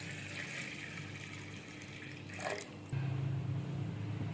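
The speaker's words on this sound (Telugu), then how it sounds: "ఇందులో కొంచెం వాటర్ వేసుకుంటున్నాము" Water is poured into a pot of washed pigeon pea dal (kandi pappu) for a village-style cucumber dal, a steady splashing fill that grows fuller and louder toward the end, with no talking.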